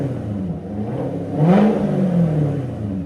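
Straight-piped 6.2L V8 of a 2015 Chevy Corvette Stingray gets a single blip of throttle, its rumbling idle swelling into a close, throaty rev that rises and then settles back down.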